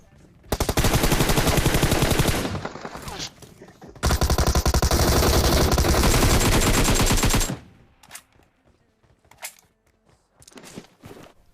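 Bursts of automatic gunfire in a video game, a long loud sustained volley, a brief pause, then a second long barrage, followed by scattered quieter shots and clatter.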